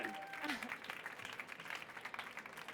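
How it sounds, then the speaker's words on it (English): A conference audience at a morning innovation-stage session breaks into sustained applause, dense and steady clapping that fills the room for the whole stretch without dying down. "Big round of applause, please, for Marcia."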